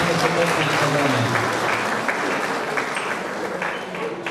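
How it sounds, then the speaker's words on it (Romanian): An audience at a local society event applauds the new leadership of the Abrameancu society, dense steady clapping from a sizable crowd that carries on throughout with some voices mixed in. "Aplaudă pentru noua conducere a societății Abrameancu."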